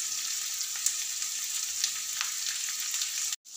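Chopped onions and cumin fry in a pan for an aloo matar paratha filling, a steady, bright sizzle that runs evenly and cuts out briefly just before the end.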